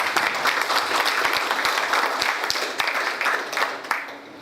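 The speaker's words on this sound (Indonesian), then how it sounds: "Aplaus untuk kita semua." An audience bursts into dense, sustained applause at a school book-discussion event, many hands clapping loudly and evenly before fading slightly at the end.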